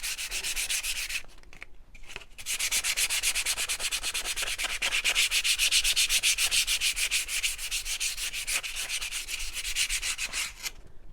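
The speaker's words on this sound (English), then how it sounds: "you can sand over those and it will kind of blend it all in" Rhythmic back-and-forth sanding strokes rasp over a painted wooden shiplap platter, a fast, steady scratchy rubbing close up with a couple of short pauses near the start and no talking.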